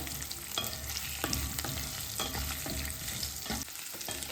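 Potato pieces shallow frying in oil in a pan with kasuri methi sprinkled in, a steady close sizzle with stirring scrapes and clacks throughout.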